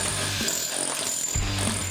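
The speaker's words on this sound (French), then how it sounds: "Cette découpeuse à disque de presque 10 kg est capable de couper un mur sur 12 cm de profondeur." A disc cutter weighing nearly 10 kg saws into a masonry wall during a home extension, cutting up to 12 cm deep. It makes a loud, continuous abrasive grinding roar with a low droning hum that dips briefly midway.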